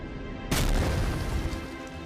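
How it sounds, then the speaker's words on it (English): A sudden loud boom from an explosion in a motion comic hits after a half-second of quiet, followed by a rumbling, crackling decay. "What the... explosion?"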